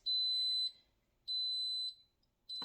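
A kitchen timer beeps in long, steady high-pitched tones, three evenly spaced bursts with silence between, the last one joined by a brief clatter.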